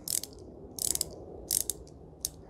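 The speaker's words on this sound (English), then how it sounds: "So I've got a great big old screw that holds the flat spring on. And I'm just gonna loosen that a bit." Screw being loosened on the flat spring of an Uberti revolver, four short bursts of ratcheting metallic clicks close up with brief pauses between them.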